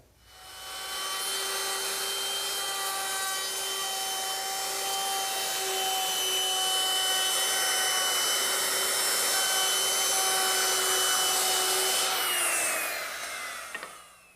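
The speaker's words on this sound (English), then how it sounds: "I'm rounding over the top edges of the seat slats using the same 1/4 inch rounding over bit" A router fitted with a 1/4 inch roundover bit shapes the top edges of wooden seat slats, producing a loud, steady high-pitched whine for about twelve seconds before winding down.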